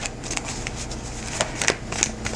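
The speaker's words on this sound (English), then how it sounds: "this is going to be me shuffling for a while." A deck of tarot cards being shuffled repeatedly, soft papery riffles and taps close up over a faint low background hum, with no talking.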